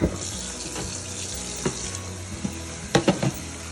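Tap water runs into a kitchen sink while Taiwanese spinach is rinsed, a steady close splashing hiss broken by a few sharper knocks and rustles of the leaves.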